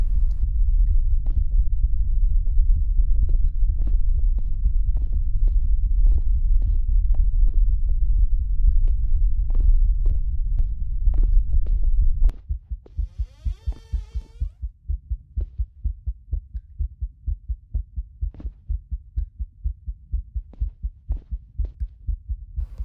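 A heartbeat sound effect in the escape game Romut pulses steadily and loudly, first over a dense low rumble, then alone as rapid, evenly spaced thumps after a brief tonal chime midway.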